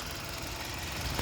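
The 1.8-liter engine of a Toyota Wish idles with a steady, even rumble and hum, close by and unbroken, with no voices.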